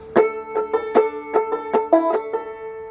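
Banjo played clawhammer style in modal tuning, bright plucked notes in a bouncy rhythm with quick pull-offs on the first string, close and solo with no talking.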